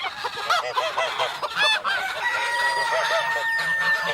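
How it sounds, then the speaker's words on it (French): A busy chorus of ducks and other farmyard fowl, overlapping clucks, honks and squawks, close and continuous, with a rooster-like crow rising among them. "Ils entrèrent tous dans la cour des canards. Quel bruit on y faisait!"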